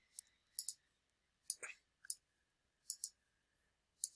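A computer mouse clicks while someone edits PowerPoint slides. Several crisp, close clicks come in small pairs and singles with short pauses between them, quiet but distinct against near silence.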